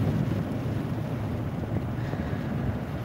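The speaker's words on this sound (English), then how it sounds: "and it's windy today." Wind on a snowy day, a continuous loud low buffeting roar against the microphone, steady throughout with no voices.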